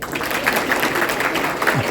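Audience applause at a high school football end-of-season awards banquet, honoring the JV Defensive Player of the Year; steady crowd clapping fills the room throughout, with voices mixed in.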